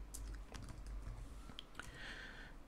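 Keys clatter on a computer keyboard as a terminal command is typed on Ubuntu 18.04, a quick, close run of light taps over a faint room hum.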